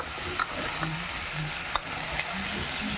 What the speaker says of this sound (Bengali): এখন এটাতে নুন হলুদ দিয়ে এটাকে ভালো করে মিশিয়ে ভালো করে একটু কষিয়ে নেব